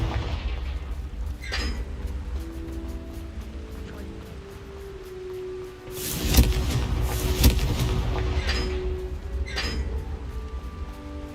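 A Confringo explosive spell in Hogwarts Legacy erupts midway as a sudden loud booming blast with a crackling tail over a couple of seconds, set against a steady low ambient hum and a few softer incidental sounds.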